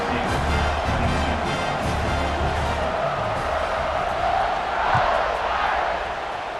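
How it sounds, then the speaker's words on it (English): Stadium crowd at a college football video game buzzes steadily after a score, a dense continuous roar of many voices with a swell near the end, loud and close throughout. "this crowd is buzzing after that last score"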